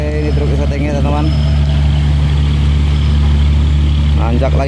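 A FAW trailer truck engine runs with a deep, steady low rumble close by on a steep hill, while people talk over it.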